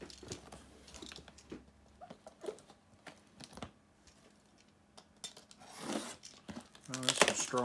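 Strong tape being torn while opening an HP 15.6-inch laptop box, scattered scratchy rips and cardboard rustles in short bursts, close and quiet, ending with louder tearing.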